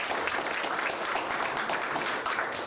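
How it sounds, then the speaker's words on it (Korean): At a sports policy workshop, a hall audience claps warmly to welcome introduced guests. A brief, even wash of many hands applauds at moderate volume with no talk over it. "큰 박수로 환영해 주시기 바랍니다."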